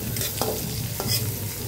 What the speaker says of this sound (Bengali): এর মধ্যে পেঁয়াজ কুচি আর মরিচ কুচি ছেড়ে দেব